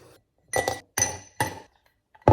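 Ice cubes for an iced latte drop into a glass one after another, giving three bright, close clinks in an even rhythm and a final sharp clink.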